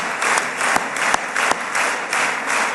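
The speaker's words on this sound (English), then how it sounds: "I'm going to clap with my little hands." An audience breaks into sustained applause, dense rapid clapping throughout, with a few sharper close claps standing out.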